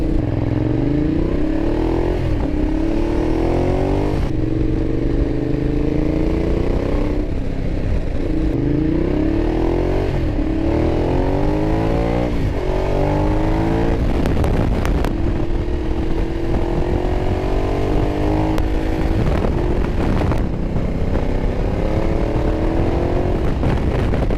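Ducati Diavel motorcycle ridden hard along bumpy secondary backroads, its loud engine rising and falling through repeated gear changes with rumbling wind and road clatter throughout, no voices.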